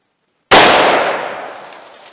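A single sharp, loud gunshot from a .357 Magnum Taurus 605 snub-nose revolver with a 2-inch barrel, firing 158-grain Hydra-Shok ammunition, breaks the silence and decays over more than a second.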